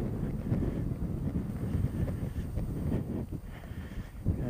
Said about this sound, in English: it is windy out here on this side of this mountain.